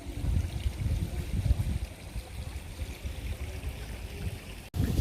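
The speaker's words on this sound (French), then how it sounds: "Petit dégradé de rivière." A small river spills over a low cascade beside rice fields in Ubud, Bali, giving a continuous close rush and gurgle of water that holds steady throughout.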